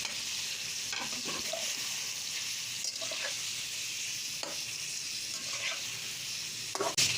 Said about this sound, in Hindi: अब हम इसमें चिकन शामिल कर देते हैं।